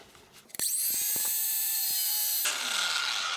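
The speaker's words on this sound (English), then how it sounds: "So let's crank it up to full speed and see if we can't grind this out." A power tool spins up to full speed while grinding during a DIY electric-vehicle front battery box build, giving a loud, sustained high whine that cuts into rougher grinding after a short start.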